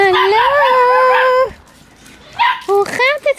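Young puppies let out a long, wavering howl, then after a short pause break into a few sharp yips and barks, loud and close.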